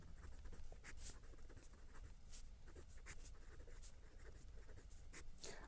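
A pen scratches across paper during a class 10 maths lesson, giving quiet, irregular strokes and taps at close range over a soft background hiss.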